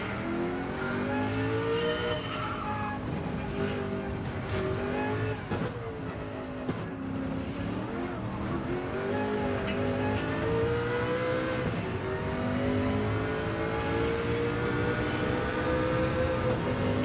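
Race cars scream around Le Mans in a racing video game, engines revving loud and continuous, pitch rising and falling through gear changes and corners with no pause.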